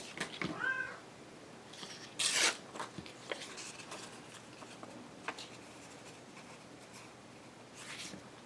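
A pet cat gives a short, faint meow early on, followed by soft rustling and scattered light ticks in a quiet room, with another brief noisy burst midway.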